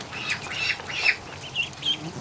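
A blind duck quacks repeatedly in short, agitated bursts over steady outdoor background noise, fairly close by.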